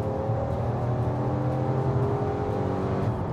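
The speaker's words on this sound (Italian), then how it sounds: "Ne approfitto per farvi sentire il motore un pochino meglio." Engine of a Citroën C3 Aircross SUV running, a steady, fairly loud drone with a smooth tonal hum that holds even throughout, no talk over it.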